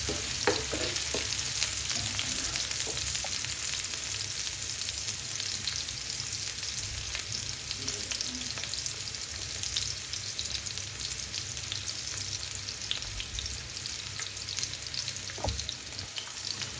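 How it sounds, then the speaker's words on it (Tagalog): Garlic, onion and ginger sauté in olive oil for a quail dish, giving a steady, close sizzle with continuous crackling that runs throughout, with occasional stirring clicks and no talk. "Igisa na natin yan. Olive oil. Sabay-sabay na yan, bawang sibuyas,"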